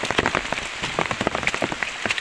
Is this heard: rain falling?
yes